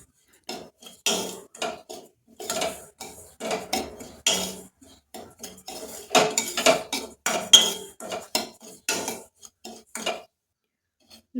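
Semolina (rava) roasting on low flame in a pan, stirred with a metal spoon that scrapes and clinks steadily against the pan in close, irregular bursts, no voices.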